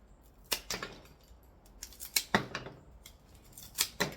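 Scissors snipping flower stems while trimming a bouquet, with several crisp close cuts in irregular pairs against a quiet room.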